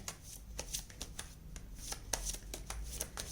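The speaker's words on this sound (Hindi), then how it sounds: "चलिए हम यहाँ से भी कुछ थोड़े से कार्ड्स निकाल लेते हैं आपके लिए" Tarot cards are shuffled and drawn, producing a run of crisp, close riffling snaps and flicks in an uneven rhythm, with no voices.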